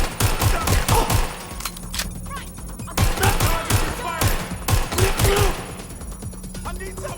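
Gunfire in the video game Watch Dogs Legion, rapid bursts of automatic shots in several volleys with short pauses between, loud and close, mixed with game voices talking and shouting.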